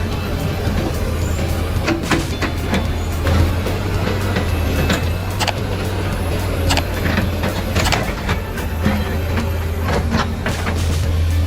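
Heavy machinery works steadily as a hydraulic log loader lifts and swings large logs onto a truck trailer; a loud continuous low engine rumble runs throughout, with scattered clanks and knocks over it.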